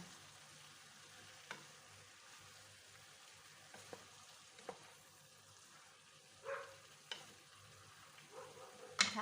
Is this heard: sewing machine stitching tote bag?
no